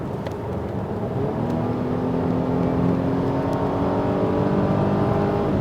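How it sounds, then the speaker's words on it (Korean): A Volvo XC90 T6 AWD Inscription petrol SUV accelerating at full throttle, its engine a steady, loud, rising drone with road rumble heard from inside the cabin, with no talking. "어, 약간 거리가 있어서 제가 엑셀 한번 밟아 볼게요"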